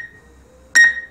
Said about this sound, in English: So it'll start beeping.